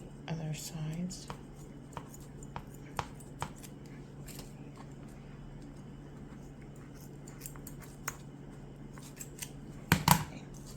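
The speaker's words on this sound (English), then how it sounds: "I'm just going to trim this so it's around the same size as the other sides." Scissors trimming poster paper, heard as scattered faint snips and clicks through a quiet room. A louder cluster of cuts comes near the end. A voice is briefly audible at the start.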